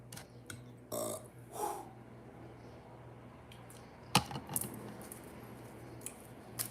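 A short burp rises near the start amid quiet room noise, followed by soft clicks and one sharp tap, all fairly faint.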